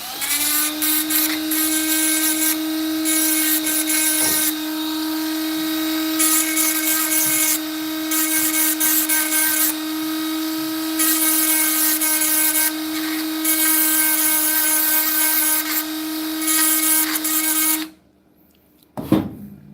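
A high-pitched rotary tool whines steadily up close as it scuffs the rubber on a gel blaster, its pitch holding level through repeated passes before cutting out abruptly near the end, followed by a brief clunk.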